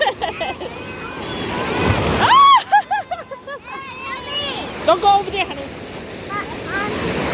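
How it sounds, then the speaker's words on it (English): Big waves roll in and break at Black Beach in Duluth, a steady surging roar with buffeting wind on the microphone and people talking nearby. "Look, big waves."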